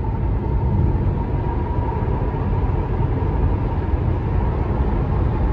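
Steady broadband road and cabin noise from a Tesla car driving on FSD v10.3 as it speeds up after an off ramp, a continuous even rumble and hiss with no clear engine note.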